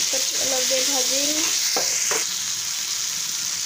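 Tomatoes and masala fry in oil with added salt for an Assamese chicken curry, a steady close sizzle broken by a couple of stirring scrapes and a brief faint voice.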